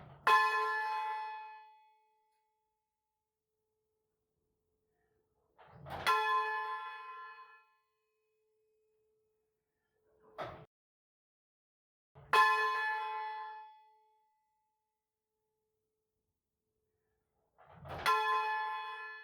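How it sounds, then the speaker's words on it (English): A church bell in the tower of St Michael's, Macclesfield, is swung full circle by rope, striking four loud, ringing strokes about six seconds apart, each decaying slowly, with a faint thud between strokes. "just a small pull on the rope overbalances the bell, and it turns full circle,"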